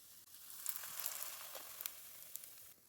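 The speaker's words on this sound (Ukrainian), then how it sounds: "На гарно розігріту сковорідку виливаю тісто" Loud, steady hiss of pizza batter sizzling in a hot frying pan, with scattered sharp pops and crackles, close up and with no talking.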